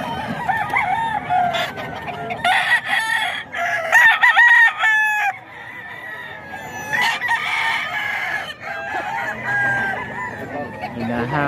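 Chickens and roosters at a fowl sale, several loud crows and clucks in repeated bursts close by, with voices talking in the background.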